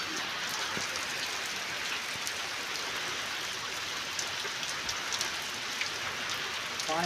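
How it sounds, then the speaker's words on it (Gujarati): Rain falls steadily on a village field in a dense, even hiss with scattered drop taps, constant and moderately loud throughout with no voices. "પાછળથી આવે વરસાદ"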